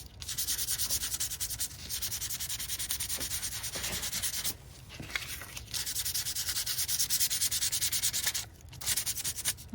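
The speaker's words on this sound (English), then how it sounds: "So I found a little sandpaper here. So we'll see if I can just rough this up a little." Sandpaper rubbed by hand over a paper craft tag, roughing the surface and wearing off color; steady rhythmic scratchy strokes, close and loud, with brief pauses between passes and no speech.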